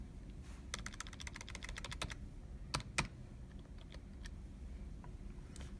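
Computer keys tapped in a quick burst of about a dozen clicks to enter a value in CAD drafting software, followed by two sharper keystrokes and a few scattered faint taps over steady low room hum.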